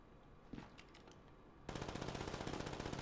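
Gunfire in GTA V: a brief shot, then a dense rapid burst of automatic fire rattling continuously and loud toward the end, no talking.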